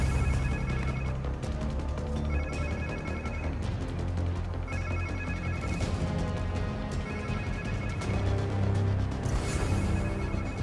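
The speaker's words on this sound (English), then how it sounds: "Sounds like somebody's phone." A phone rings during Marvel's Spider-Man 2, its repeated bursts of ringing set over a steady bed of game music and ambience, moderately loud across the whole stretch.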